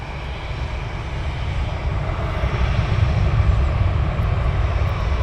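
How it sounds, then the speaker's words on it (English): An Etihad Boeing 787 Dreamliner jet airliner at Manchester Airport makes a broad, rumbling engine roar that swells gradually louder across the few seconds, heard from a distance with no speech. "Ethiad Dreamliner."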